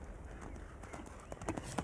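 Hooves of the 11-year-old Selle Français stallion My Lord Carthago beat in a quick canter rhythm at a show jumping event, faint and distant beneath low arena noise.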